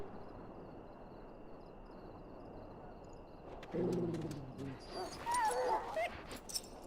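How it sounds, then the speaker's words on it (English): Dog whimpering in the video game Dragon Age: Origins, a few soft whines and yips rising after a quiet stretch, with a voice talking at the same time. "Now I can treat the dog properly, poor fella."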